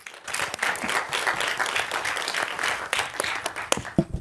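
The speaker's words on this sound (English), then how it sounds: "Warm applause for Damsbo." Warm applause from a conference audience at a documentary film forum, a steady dense wash of many hands clapping that swells and carries on for several seconds without talk.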